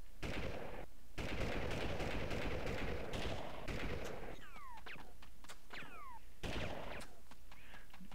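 Toy-soldier gunfire from Army Men 3D on PSX rattles in dense bursts of rapid shots, with pauses where ricochet-like whistling sweeps cut in before another burst resumes.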